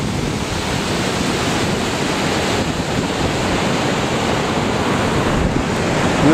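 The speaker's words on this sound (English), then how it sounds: "This is the Black Sturgeon River." The Black Sturgeon River rushes past the upper side of a dam, giving a steady, full broadband roar of moving water that stays loud and unchanging throughout, with no voices.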